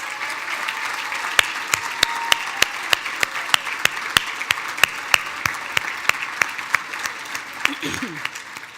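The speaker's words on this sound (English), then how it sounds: "Please give them a huge round of applause." A dinner audience at the Lansing Regional Chamber's 107th annual dinner applauds in a big ballroom, broad steady clapping over a few sharp, regular louder claps close by, with a brief voice near the end.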